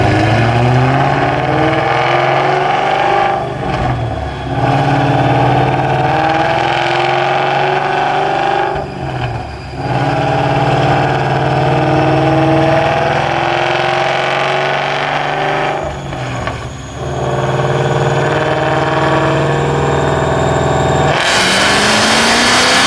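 Ford Shelby GT500 running E85 on a dyno, its engine revving hard and loud through a long pull with rising pitch sweeps, brief dips between gear steps, and a sudden cut near the end.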